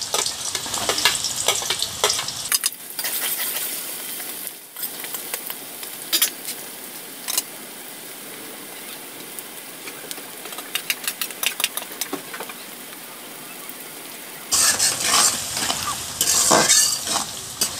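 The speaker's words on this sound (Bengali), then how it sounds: "তেলের মধ্যে দিয়ে দিচ্ছি পেঁয়াজ কুচি," Chopped onion and garlic fry in hot oil in a wok with a constant sizzle, punctuated by scraping stirs that burst louder at the beginning and again toward the end.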